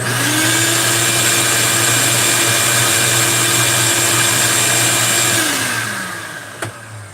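A shop vac roars close and loud, a steady whining suction drone that holds evenly and then winds down as it is switched off, with a brief clunk near the end.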